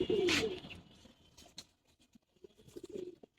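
Pet pigeons, military and silver breeds, coo in a loft: a loud close coo at the start, then softer soft throaty coos and faint wing flutters near the end.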